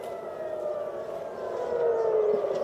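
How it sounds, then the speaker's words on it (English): Civil defense air raid sirens sounding over Tel Aviv, a steady wailing tone heard from a distance, slowly swelling louder, with no talk. "very distinctive sound of air raid sirens there over Tel Aviv, the city"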